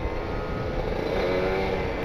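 A Kawasaki Ninja RR two-stroke with a PWK28 carburetor and an R9 Neo Mugello carbon exhaust pulls hard while riding on a bumpy road, its loud engine note holding a steady, raspy drone throughout.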